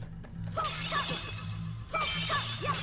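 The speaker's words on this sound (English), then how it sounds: "the only thing left to do is start smashing pots" Clay pots shattering in The Legend of Zelda: The Wind Waker HD, a string of crisp breaking crashes with clinking debris, spaced in two quick clusters over steady background game music.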